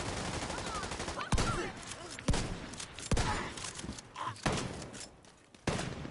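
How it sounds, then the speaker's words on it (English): Bursts of gunfire from a shooter video game, several sharp loud shots spaced a second or so apart over a busy background of game sounds, with a player's voice occasionally heard. "Stop shooting at me."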